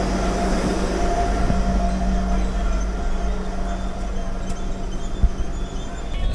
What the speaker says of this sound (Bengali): তিরিপুর থেকে ট্রেন ছেড়ে দিল